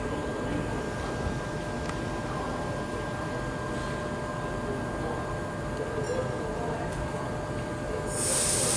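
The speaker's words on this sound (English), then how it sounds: "You can see the doors closing as it readies itself to depart." A Sydney suburban train at Wolli Creek station closes its doors and pulls away, a low steady rumble and hiss of the carriages under a faint tonal whine, rising slightly at the end.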